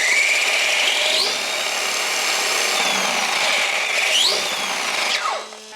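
Cheap 4s basher RC car with its motor revving hard at full throttle, a loud high electric whine that swoops up and down in pitch several times before cutting off.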